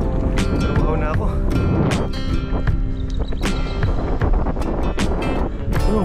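Gusty wind buffets the microphone in loud, irregular rushes and thumps, mixed with rustling and clattering outdoors while people talk.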